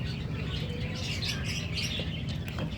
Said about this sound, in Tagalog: ang ingay ng mga alaga ni Mother Der na mga ibon